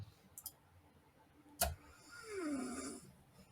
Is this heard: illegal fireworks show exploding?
no